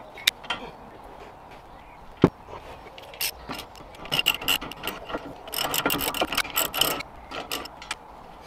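Ratchet with a 15 mm socket undoing a nut on the suspension of a Ford Fiesta ST, close rapid clicking pawl strokes in bursts, with a sharp metallic knock early on.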